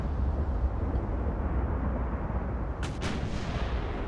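An 18-inch naval gun fires in the naval warfare game Ultimate Admiral Dreadnoughts, giving a pair of quick sharp booms over a constant low rumble of sea and engines.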